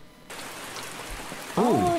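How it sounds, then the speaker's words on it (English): Steady rain patters across a surface in a video game, a dense even hiss that swells louder near the end as a bright sweeping tone cuts in over it. "It's a cool rain effect."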